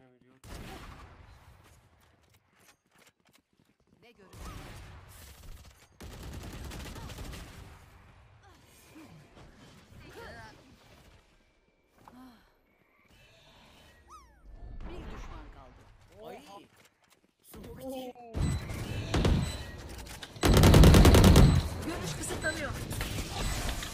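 Bursts of weapon fire in the Valorant video game, with rapid shots clustered in short volleys and a loud, dense barrage near the end, mixed with stretches of people talking.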